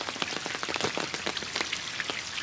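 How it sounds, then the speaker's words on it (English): Steady rain falls on surfaces at Hiroshima Castle, a dense, even patter of drops hitting stone and pavement, close and continuous with no voices. "And it's raining"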